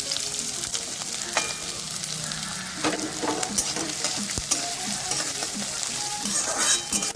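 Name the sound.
chopped onions frying in hot mustard oil in a wok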